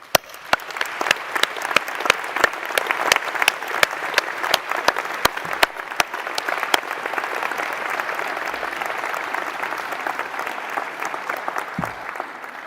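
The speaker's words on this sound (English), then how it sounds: "So let's give them a round of applause." A crowd at a university graduation ceremony applauds, with sharp individual claps standing out over a dense wash of clapping that gradually thins and fades toward the end.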